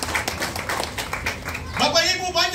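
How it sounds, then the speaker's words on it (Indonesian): A church congregation claps for the Lord at a Christmas 2023 service, a dense run of quick claps that fades as voices rise and carry on. "Tepuk tangan untuk Tuhan"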